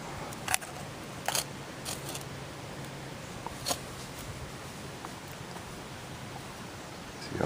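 A worn knife scrapes pine pitch off a tree trunk outdoors, with a few short, sharp scraping strokes spaced apart over faint background hiss.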